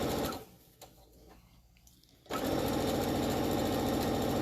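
A sewing machine stitches fabric for a hair scrunchie, with quiet starts and stops, then a loud steady close-up whirring run of fast needle strokes, no talk.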